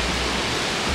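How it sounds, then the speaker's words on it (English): A waterfall roars as a continuous broadband rush of water at the top of a climb, steady and close with no voices. "waterfall's right there"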